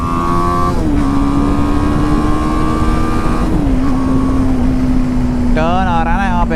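BMW GS motorcycle cruising on a highway in fifth gear: a steady, loud engine drone with wind rush throughout, the pitch shifting slightly as it goes, and a rising whine of revs near the end.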